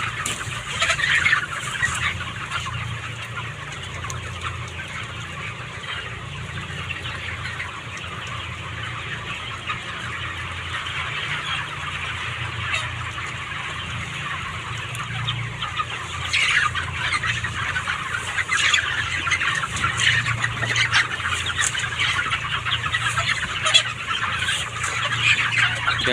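A flock of 29-day-old chicks clucks and peeps steadily while eating, a dense continuous chatter from many birds close by that lasts throughout with no talking.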